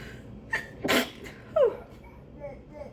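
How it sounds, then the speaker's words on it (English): One close, sharp human sneeze sits among short breathy bursts and faint vocal sounds indoors, fairly quiet overall. "I have to sneeze."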